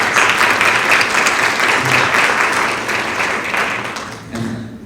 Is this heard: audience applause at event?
yes